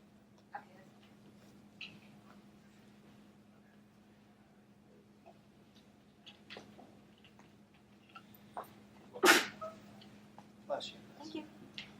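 In a quiet room with a faint hum, a single sharp sneeze bursts out, surrounded by scattered small clicks and rustles.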